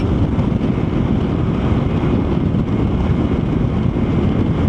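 Steady, loud wind roars without a break, buffeting the microphone with a dense low rumble and a broad hiss throughout.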